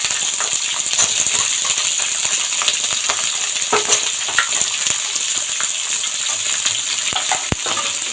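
Chopped flat beans fry loudly in hot mustard oil, a dense crackling sizzle broken by frequent sharp clicks and scrapes of a utensil against the pan, continuous and close with no talking.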